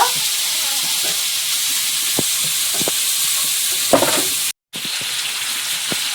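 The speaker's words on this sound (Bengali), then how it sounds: "কচুটা ওদিকে ভাজা হচ্ছে" Taro pieces fry in a pan with a loud, continuous sizzle and hiss, broken by a few scraping clicks and one brief dropout.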